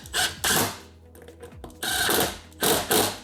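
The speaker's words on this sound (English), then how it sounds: "I'm gonna go ahead and use the impact to bolt them all the way down" A cordless impact wrench tightens ignition bolts on a 2006-2007 Suzuki GSXR 600/750 motorcycle, firing in several short, loud, close bursts with brief pauses and faint mechanical clicks between them.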